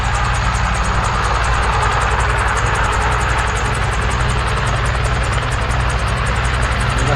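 Guimbal Cabri G2 helicopter with its engine running and rotors spinning up during start-up, a steady loud turbine-like roar with a low rhythmic rotor thump throughout, close by and with no talking.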